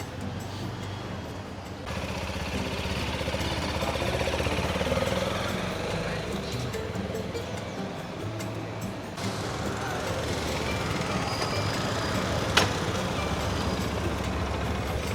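A TVS Apache RTX 300 motorcycle engine, running smoother after its first service, idles steadily at close range, a continuous low rumble with slight swells and one sharp click, and voices occasionally murmur underneath.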